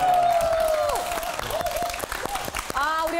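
A studio audience on a KBS variety show applauds as guest opera singers are introduced. Steady clapping runs under a speaking voice with melodic, sung-like intonation, and the hosts' talk stays prominent over the applause.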